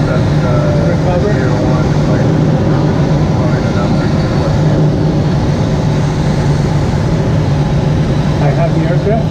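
Steady, loud engine drone of a glider-towing or motor aircraft during a soaring flight, continuous and close without letup, with no clear voices over it.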